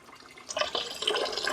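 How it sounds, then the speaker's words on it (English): Water trickles and splashes unevenly from a Raceglaze zero PPM water filter into a clean container, a soft, close liquid flow that grows a little louder after the start. "So this is water going through my filter."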